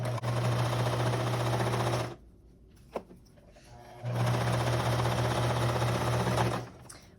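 A sewing machine stitches a t-shirt sleeve hem in two loud, steady bursts of whirring that are close and continuous, split by a quiet pause with a single click.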